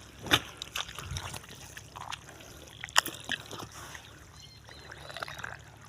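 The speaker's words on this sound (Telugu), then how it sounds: "ఉన్న చివరి బొట్టు వరకు నీళ్ళు వెళ్ళిపోతాయి" Water from a broadcast-sown paddy field trickles and dribbles out to the last drop, a faint, irregular gurgle with scattered small splashes throughout, heard alone.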